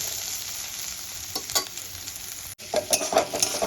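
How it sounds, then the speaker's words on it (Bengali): Onions with a pinch of salt frying in hot oil, a loud, continuous close sizzle with a few scraping stirs and a brief break partway through. "পেঁয়াজটা ঠিক এইভাবে লাল লাল করে ভাজতে হবে।"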